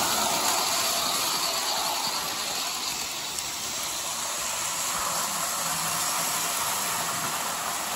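A vintage Lionel F3 model locomotive pulling 2500 series Super Chief cars from a 1950 set hums and rattles along its track, an even, continuous mechanical whir close by with no break.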